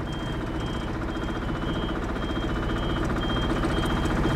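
Diesel engine of an Athena bi-levelling scissor lift running steadily, a close, constant low rumble with a faint high whine on top and no talk.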